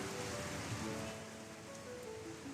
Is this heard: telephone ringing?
no